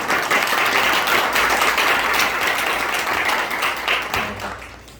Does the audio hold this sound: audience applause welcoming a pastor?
yes